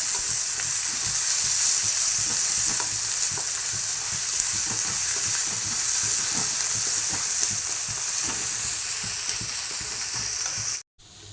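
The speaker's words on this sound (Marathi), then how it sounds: "कांदे बारीक चिरून घेतले ते घालायचे आलं लसणाची पेस्ट घालायची आणि ह्याला खमंग भाजून घ्यायचं" Finely chopped onion with ginger-garlic paste fries loudly in a pan, a dense continuous sizzle with stirring scrapes, ending in a brief cut near the close.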